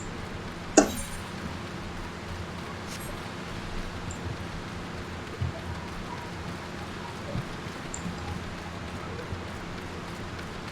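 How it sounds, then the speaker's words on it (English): Steady rain falls in Final Fantasy XIV, a constant, even hiss of drops with an occasional sharper patter or tap, moderately loud throughout with no voices. "This rain is awful."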